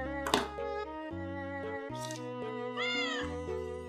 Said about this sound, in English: we cover this IR marker, we hear the cat sound